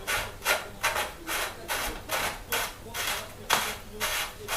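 A Shimano 105 Hollowtech II bottom bracket cup being threaded into a bicycle frame by hand gives a steady series of rhythmic, close rasping rubs, about nine strokes in a row with no other sound.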